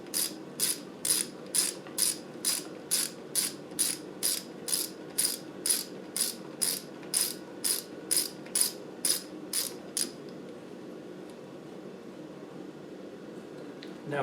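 Ratchet clicking rapidly and evenly, about twenty close, crisp clicks, while winding down a part during a rebuild of an Adwest lightweight Tdci steering box, then stopping to leave a quiet hum.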